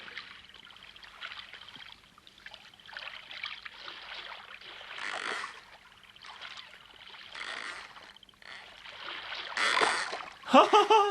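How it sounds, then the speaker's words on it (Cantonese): Water sloshes and trickles in repeated bursts around a leaking rowboat on a lake, with splashing growing louder toward the end. "原來呢隻爛鬼船漏水"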